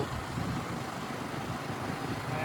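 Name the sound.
tempo van and Ertiga car passing by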